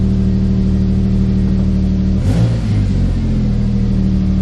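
A car engine idles steadily just after starting, loud and close with a low hum, then briefly surges in a short rev before settling back to idle.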